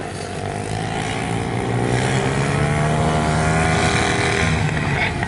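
Junior motocross bikes racing around the Rosebank track blend into a loud, steady buzz of revving engines that swells slightly as they pass, with a commentator speaking faintly underneath.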